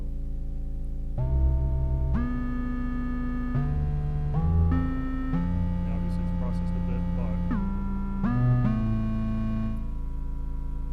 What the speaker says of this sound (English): You can hear that whir up and whir down in the background.